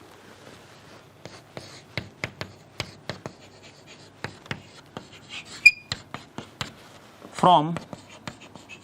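Chalk or marker tapping and scraping on a board during a Hindi-language physics lecture on ray optics, a steady run of short sharp strokes beneath a voice, with a louder scrape near the end.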